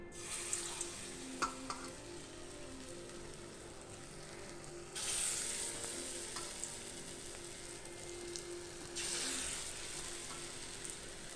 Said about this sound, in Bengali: এরকম করে আমি বড়াগুলো সব ভেজে নেব সরষার তেলেই ভাজছি